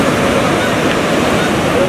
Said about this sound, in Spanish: acá vemos que nuevamente comienzan a formarse las olas y a llegar